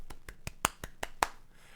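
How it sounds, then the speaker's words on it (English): A slow run of about seven light, evenly spaced claps, soft and thin like a restrained golf clap, close by and alone before fading to quiet. "Golf clap."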